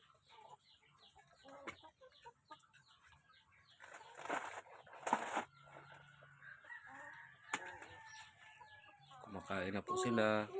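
Gamecock chickens feed close by with scattered clucks, pecking and rustling, wings flapping now and then, while a person talks over them.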